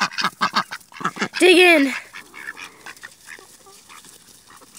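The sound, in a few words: pet ducks quacking while being hand fed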